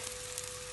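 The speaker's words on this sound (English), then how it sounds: "shape them into a ball and place them straight onto the frying pan." Meatballs sizzling in a frying pan, a steady close crackling hiss of frying with no talk, lasting under a second.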